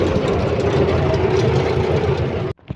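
A heavy Arjun 605 diesel tractor engine idles nearby with a low, steady rumble and rhythmic chugging, then the sound drops away suddenly at the end.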